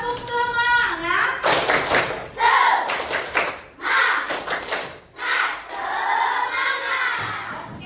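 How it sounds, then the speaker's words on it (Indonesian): A school class does a rhythmic 'tepuk semangat' together, with bursts of unison clapping and thumps mixed with children chanting and shouting in a loud, patterned call-and-response. "Mari kita tepuk semangat ya, bareng-bareng."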